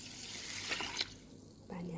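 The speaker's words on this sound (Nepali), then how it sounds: "यसमा चाहिँ पानी हाल्यो है" Water is poured into a bowl of rice set to soak in a home kitchen, a short, soft splashing pour near the middle of a quiet clip, followed by a brief voice.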